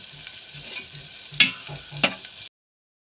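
Fish sizzles steadily in a pan for a tamarind fish curry, a constant close frying hiss with two sharp clicks of a utensil against the pan before it cuts off.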